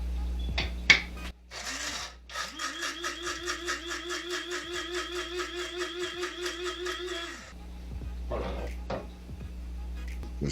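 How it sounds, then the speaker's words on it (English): An electric spice grinder blends a homemade seasoning mix for seafood étouffée in short repeated pulses that rise to a steady whirring grind lasting several seconds, with light kitchen clatter before and after. "Then we're going to put it in our spice grinder."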